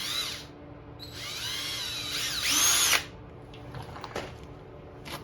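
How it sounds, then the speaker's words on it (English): Power drill boring a pilot hole into an ATV nerf bar before riveting on new webbing, a close, loud whine that rises in pitch for about three seconds, then stops, followed by faint clicks. "drill a pilot hole"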